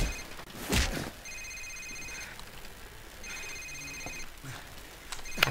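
Telephone rings inside the Call of Duty 4: Modern Warfare safehouse mission, with a bright repeating tonal ring in short bursts over game ambience and a loud thud early on.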